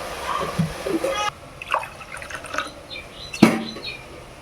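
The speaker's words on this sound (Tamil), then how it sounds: "இன்னும் கொஞ்சம் தண்ணி ஊற்றணும்" Water splashes and trickles into a cooking pan in short, uneven pours, with scattered drips and a clink near the end.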